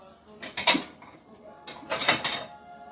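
Small ceramic dishes clink and rattle twice in a kitchen as one is picked up for tasting baked eggplant parmigiana, two short clattering bursts close by with quiet handling in between.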